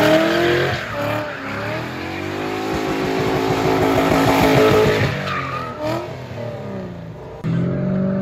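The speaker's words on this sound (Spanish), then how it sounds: "vamos a ver un poco de drift" Japanese-market drift cars at an open practice lot, engines revving hard with rising and falling pitch while tires squeal and skid through long slides, loud and close, no talking.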